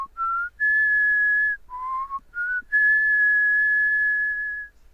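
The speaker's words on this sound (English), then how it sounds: "I don't know who's whistling." A person whistles a short tune of clear, pure sustained notes stepping up and down in pitch, close and loud, ending on one long held tone, with no talking over it.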